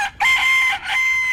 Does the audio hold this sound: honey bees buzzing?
no